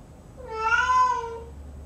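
A single drawn-out cat meow rises and falls over about a second, clear and close, alone against a faint background hum.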